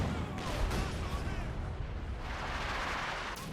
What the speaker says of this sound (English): Mortars here trying to silence Treaser's mortar. Howitzer also firing.